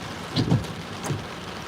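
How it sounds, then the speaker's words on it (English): Rain falls during a tropical storm in Fort Myers, Florida, a soft steady patter broken by a couple of brief, louder thumps of drops. "it's just a little bit of rain"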